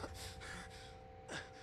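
Heavy breathing from the Fallout 4 video game, a close, loud gasping inhale followed by ragged breaths, with a sharp second gasp near the end.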